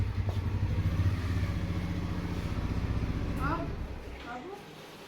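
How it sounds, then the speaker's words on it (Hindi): A motorbike ridden back in at a home, a close, pulsing engine rumble that fades after a few seconds, with voices talking over it. "कल मुन्ना को हम रीटेक करवाएं, बोले कि फिर से बाइक लेके जाओ बाहर और फिर से अंदर आओ"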